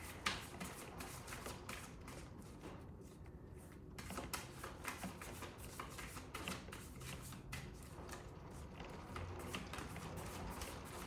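Tarot cards being shuffled by hand, a soft continuous riffling and slipping that runs steadily throughout at low volume.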